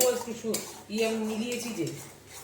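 Semolina is stirred in ghee with a metal spoon for halwa, with repeated scraping clinks against the pan and a faint sizzle beneath.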